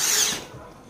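A handheld power drill whines briefly at close range while working on a G37 car, the loud bright buzz fading after a fraction of a second into low background rumble, with no talk.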